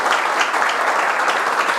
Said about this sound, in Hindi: एक बार खुद के लिए ज़ोरदार ताली बजाएं